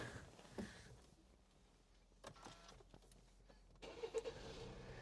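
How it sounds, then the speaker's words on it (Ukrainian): A Hyundai ix35 with a 2.0 CRDi diesel engine and automatic gearbox starts up: a quiet interior with a short cranking burst, then the engine catches and settles into a low, soft idle, with some faint clicks. "Зараз я його заведу, покажу, як він гарно працює."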